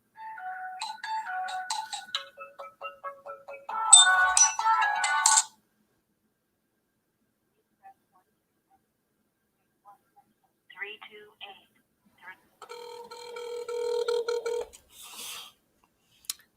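A phone ringing on an outgoing call, repeated ring tones with pauses between them, close and clear, with talk before and after.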